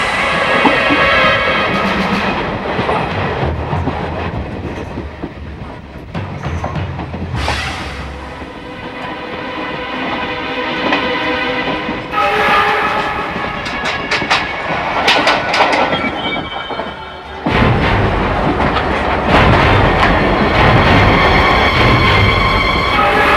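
A train pulls into a station, its steady rumble and clickety-clack of wheels on rails filling the scene loudly, with rising and falling waves of mechanical noise and a heavy surge near the end.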